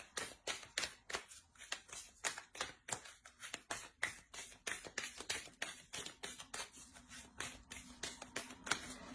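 Oracle cards shuffled and drawn by hand, a close, quiet run of rapid papery flicks and riffles repeating in a steady, brisk rhythm for the whole stretch, with no talk.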